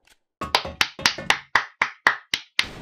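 Sharp hand claps ring out one after another in CrossFire, about nine crisp, evenly spaced hits standing alone and close.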